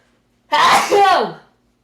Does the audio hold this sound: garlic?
no